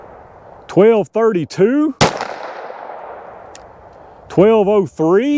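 .22 WMR magnum rifle firing over a chronograph on an outdoor test: one sharp, loud crack with a brief decaying tail, while someone talks before and after the shot.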